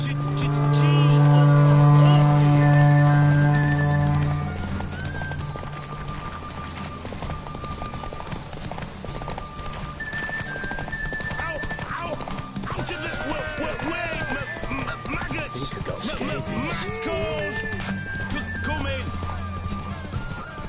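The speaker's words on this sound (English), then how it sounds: "Run, Roach." A horse in The Witcher 3 video game gallops with steady clip-clop hoofbeats, a loud neigh rising at the start, over in-game music and voices talking throughout.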